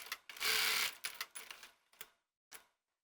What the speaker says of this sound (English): I'm going to sew a 5/8 seam allowance across the top.